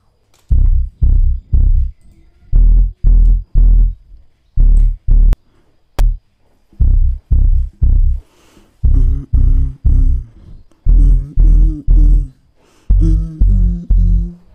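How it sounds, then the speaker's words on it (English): Deep Afro house bass line with its filter cutoff lowered in FL Studio, a muffled, rounded low thump repeating in a steady rhythmic pattern of pulses, loud and alone. "Then I'm going to reduce the cutoff of this bass."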